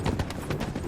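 Hooves of a riderless horse clip-clopping in quick, irregular beats at close range, with a faint background murmur and no clear speech.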